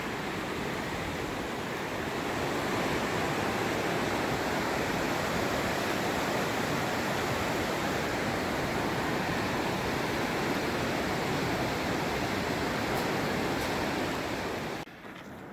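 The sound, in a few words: Colorado River flowing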